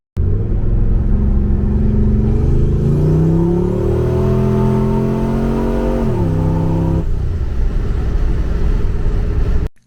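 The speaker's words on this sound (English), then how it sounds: "I did make a higher boost pull on the way home in second gear, just rolling into it" A turbocharged car pulling hard in second gear on a higher boost setting, about 7.5 psi from an electronic boost controller: loud, close in-car engine drone climbing steadily in pitch, a brief dip at a short shift, then steady cruising rumble to the end.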